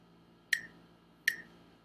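Two sharp metronome clicks about three-quarters of a second apart, set up for a guitar songwriting exercise, crisp and moderately loud over a faint background hum.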